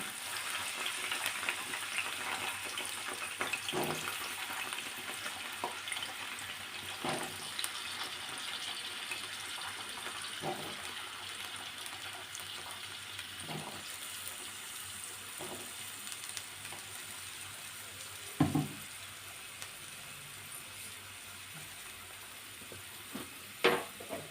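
Round-cut eggplant slices, about a quarter kilo, fry in oil in a pan, giving a soft steady sizzle with occasional stirring scrapes and a few louder clatters near the end.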